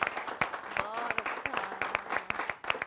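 Audience applause welcoming a poet on stage, steady clapping with distinct individual claps, while a voice carries on over it.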